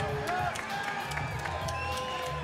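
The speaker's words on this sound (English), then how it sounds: "Give a round of applause for a guy making his pro debut from Team Takedown" A crowd at the XKO 35 fight event applauds and cheers for a fighter making his pro debut, with scattered claps and whoops under a talking announcer.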